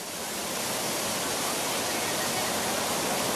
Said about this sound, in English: 10 sluice gates of the Parakrama Samudra have been opened with the water being released into the Ambanganga